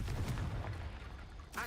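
A Confringo blasting spell explodes in Hogwarts Legacy, a dense, loud booming blast that rumbles for over a second before a brief bright crackle at the end.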